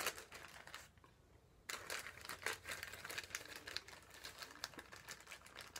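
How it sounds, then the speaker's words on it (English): A plastic Ziploc bag crinkles as a hygrometer test item is slipped inside, producing faint, close, irregular rustles and crackles with a brief lull before a busier run of crinkling. "You're going to put that in your Ziploc bag."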